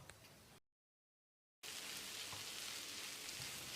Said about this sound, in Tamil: இதை 1 நிமிஷம் நல்லா ஃப்ரை பண்ணி விட்டுடலாம்